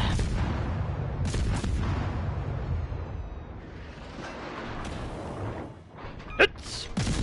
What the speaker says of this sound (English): Prepare to fire all cannons!